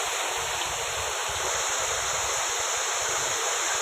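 Water pours like a small waterfall into fish hatchery tanks, a steady, loud, unbroken rush of splashing that does not change throughout.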